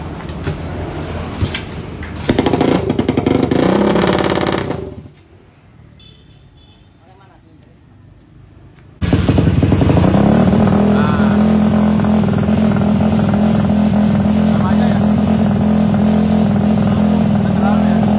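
A Honda Supra motorcycle fitted with a custom exhaust runs loud and close, its engine dropping to near silence midway before roaring back into a steady, strong idle.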